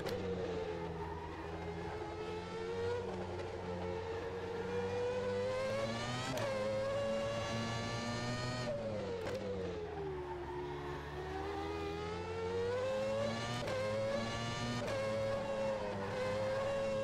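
A McLaren F1 car engine in the rFactor 2 racing game, a steady high-pitched drone that rises and falls through shifts as the car laps, loud and close with no talking.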